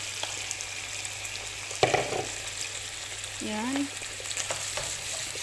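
Pork ribs are stirred in tomato sauce in a hot pan, giving a steady sizzling bubble with a sharp clank of a utensil partway through, plus a brief spoken word and a short rising squeak.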